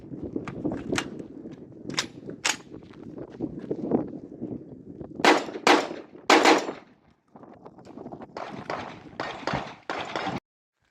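Shotgun blasts from a Pat Kelly edition Genesis 12 firing BMP 1250 fps shells: a rapid string of about a dozen loud, sharp reports in quick bursts, close and alone, with brief pauses between groups.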